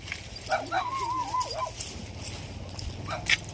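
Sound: dog barking

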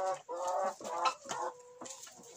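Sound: chicken clucking in a barn

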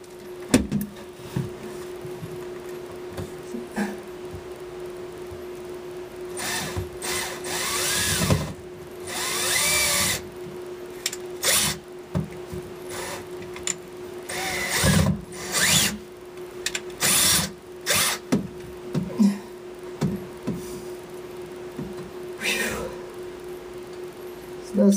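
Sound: power drill driving large screws into a mount

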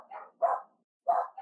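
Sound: dogs barking

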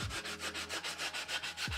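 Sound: sanding pad rounding over edges of wooden bandsaw box

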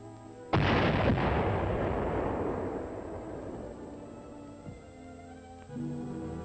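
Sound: dynamite blasting ice into the bay

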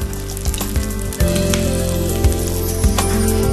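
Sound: rice mixed with bamboo shoots pan-fried like a pancake

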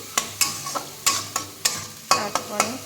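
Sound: sautéing spice paste with tomato in oil

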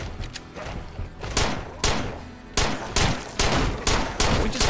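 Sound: gunfire in video game State of Decay

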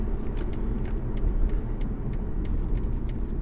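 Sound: car engine accelerating

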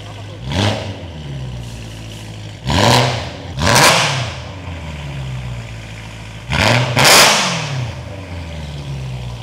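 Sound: BMW E92 M3 with straight pipes revving

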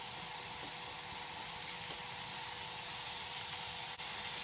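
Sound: chicken sizzling in a pan

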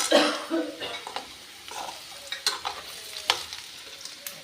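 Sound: arbi (taro) frying in a pan

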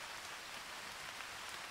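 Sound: rain in the video game Arma 3

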